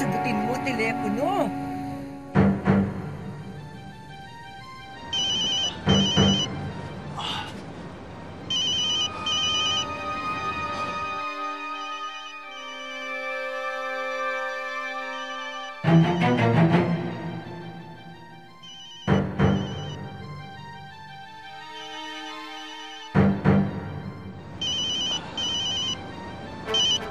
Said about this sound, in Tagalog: Fernando, sagutin mo telepono!